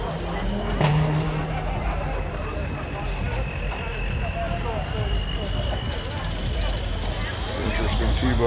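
A truck with a loud, rumbling exhaust at the Chino Corn Feed Run car show and cruise gives a steady low growl, heard from a short distance under outdoor crowd babble and passing vehicle noise.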